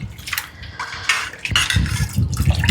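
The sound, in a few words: water poured into a pan of curry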